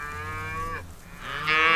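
A cow on a Montana ranch moos twice, each call long, loud and close, with a short quiet gap between them.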